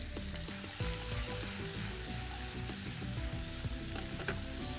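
Chicken sizzles steadily in a hot pan on a Tamil cooking show, a loud continuous fry with scattered scraping stirs and clinks over a background of music.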